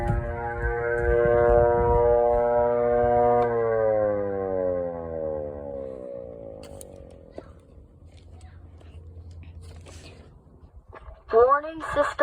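A civil defense warning siren in Longview, Colorado sounds during a test, its loud harmonic wail sliding downward as it winds down and fades over several seconds, followed by a brief rising tone near the end.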